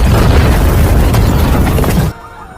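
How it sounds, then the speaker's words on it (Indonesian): A bomb explodes in a room in a film scene, a loud sustained blast roar with rumbling debris that cuts off abruptly after about two seconds into quiet. "bom yang terpasang di ruang TKP itu meledak"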